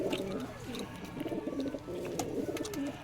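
Kaldoma and Giribaz pigeons coo in soft, rolling, repeated calls at close range, with a faint background hum and no talking.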